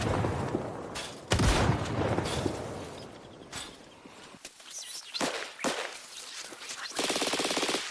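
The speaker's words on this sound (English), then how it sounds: "here's a ton of shooting guns" Rapid bursts of gunfire inside a police station in Project Zomboid, a zombie survival game, come as loud repeated shots and volleys with brief gaps and no talking.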